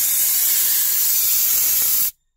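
Optima XD steam cleaner blasting steam onto upholstery, a loud, steady close hiss that holds for about two seconds and then cuts off abruptly into silence.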